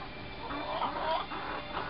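A hen pecks about a new space, giving soft, steady clucks and low murmurs close by, with light scratching sounds around her and no talking.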